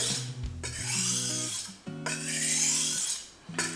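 A kitchen knife is drawn heel to tip across a rubber-based whetstone, giving rhythmic rasping strokes with ringing metallic overtones, close and clear with no talking.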